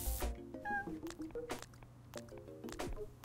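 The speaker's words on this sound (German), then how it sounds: "Katze läuft." In the adventure game Deponia, a cat pads along with a series of soft, squishy, dripping steps, mixed with a few quiet tonal blips at a low level.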